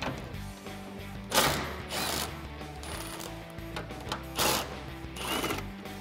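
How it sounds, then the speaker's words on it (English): An impact wrench takes the bolts off the taillight of a 2016-2020 Toyota Tacoma. It gives several short, sharp rattling bursts at close range, with quieter mechanical handling noise between them. "I'm just gonna use my impact wrench"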